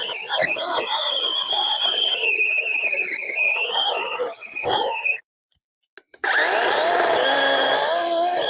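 Chainsaw cutting through wood while clearing stumps, a loud continuous buzzing whine that drops out briefly to near silence before the saw roars back up.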